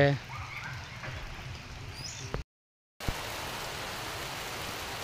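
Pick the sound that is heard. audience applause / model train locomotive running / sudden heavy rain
sudden heavy rain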